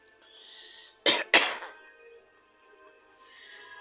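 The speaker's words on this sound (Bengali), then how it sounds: "কাশি দাও একটা, কাশি দাও" An elderly man coughs twice in quick succession, short sharp bursts close by against a quiet room with faint background hum, followed by low muffled ambience.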